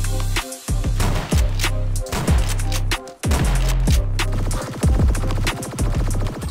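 Original in-game gunshot effects from a computer shooter play as loud, punchy bursts with booming low ends and decaying tails, fired in a quick irregular sequence with brief pauses.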